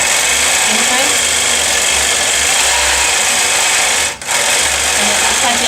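Loud, continuous whir of a longarm quilting machine stitching freehand feather patterns, a steady mechanical drone that dips for a moment near the end before resuming.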